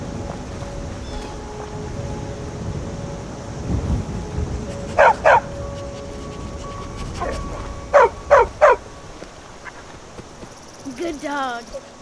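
A dog barks in Skyrim, short bursts of two and three yaps at mid distance over a soft ambient game background, with a brief voice near the end.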